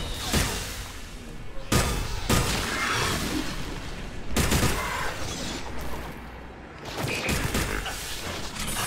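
A space battle in the video game Mass Effect 3 plays out as repeated sharp bursts of weapon fire and booming impacts over mechanical rumble, loud and irregular.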